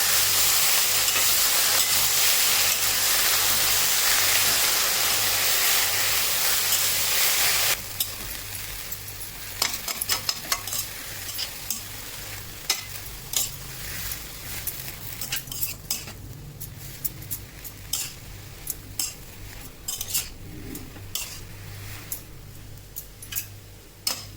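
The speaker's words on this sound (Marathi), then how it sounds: "त्याच्यामध्ये भाजी टाकून घ्यायची आपण, स्वच्छ केलेली भाजी. भाजी खालीवर करून घ्यायचं." Chickpea greens frying in a pan and stirred with a spoon, cooked village-style as a dry vegetable dish: a loud sizzling hiss at first, then repeated scraping and metallic clinks as the leaves are turned over.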